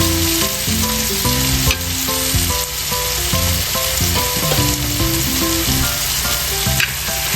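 Red amaranth greens (lal shak) fry loudly in a pan, a steady dense sizzle with stirring scrapes and clinks throughout, no voices.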